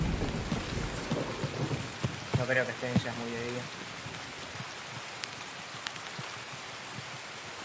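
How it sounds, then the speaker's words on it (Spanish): Steady rain falls in the Escape From Tarkov video game on the Woods map, with a low rumble of thunder, continuous and close, while someone talks over it. "Si nos aguanta la lluvia."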